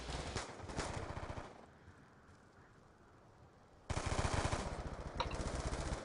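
Rapid automatic gunfire in a video game, two loud bursts of rattling shots separated by a quieter stretch of background game noise.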